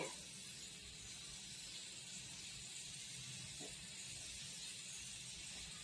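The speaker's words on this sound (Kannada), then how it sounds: "ಆ ಸಾಸಿವೆ ಕುಣಿತಾ ಇರಬೇಕು" Mustard seeds spluttering and popping in hot cooking oil for tomato chitranna, a steady sizzling hiss with dense crackle that continues evenly throughout, close and fairly quiet.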